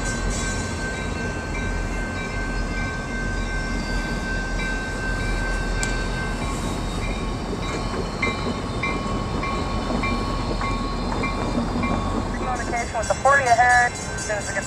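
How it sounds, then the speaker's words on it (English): A commuter train rumbles through a station stop, with steady rail noise, a sustained tone, and squealing brakes toward the end; a voice talks over it. "There it is, making this station stop."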